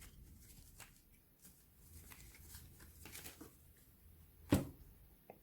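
A tarot card is laid down over another card on a table, giving a soft papery slap near the end among quieter faint rustles and handling sounds, close and quiet.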